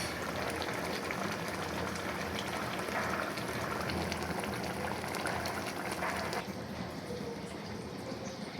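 Curry simmering in broth in a covered pot bubbles quietly and steadily, a soft, continuous burbling hiss with no voices over it.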